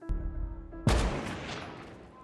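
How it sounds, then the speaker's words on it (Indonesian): A single sharp gunshot cracks out in the film American Sniper, followed by a long rumbling decay, heard after a brief stretch of low tonal background sound. "sniper musuh juga berhasil menembak satu tentara Amerika"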